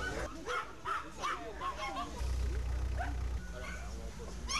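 Several dogs bark, yip and whimper at a dog fair, short repeated barks close by over a busy crowd, with people talking throughout and a low rumble in the middle.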